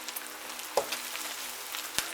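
Crumbed pork chops fry in an electric fry pan with a steady, faint sizzle, broken by a couple of sharp clicks or taps near the middle and end.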